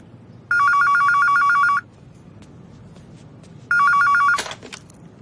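A phone rings in two bursts of an electronic bell-like ringtone, each lasting about a second, separated by a short pause, loud and close, in an otherwise quiet room.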